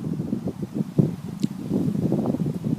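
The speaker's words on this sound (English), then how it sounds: "it's a little bit windy today" Gusty wind buffets the microphone in low, uneven rumbles, rising and falling in short bursts with no voices present.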